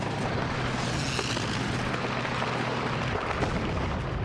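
A Battle of the Bulge artillery barrage of American shells and tank fire pounds the area in a dense, continuous roar of explosions, loud and unbroken throughout.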